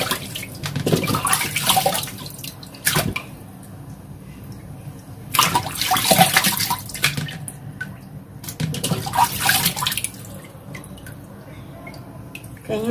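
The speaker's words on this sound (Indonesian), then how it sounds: "Kita cuci sampai bersih" Food ingredients are rinsed clean under running water in a home kitchen, with bursts of splashing and gushing separated by quieter drips and handling noises.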